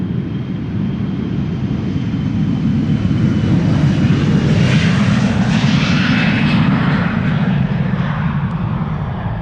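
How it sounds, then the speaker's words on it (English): A Boeing 747-400 departing Amsterdam Schiphol: loud, steady jet engine roar with a rumbling low end, swelling as the aircraft passes close by and holding strong to the end, with no talk over it. "This is a 747-400 which will be going"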